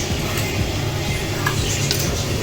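Egg and potato fry gets stirred in a pan, a spoon scraping and clinking steadily against the metal over a soft sizzle, close and continuous with no talk.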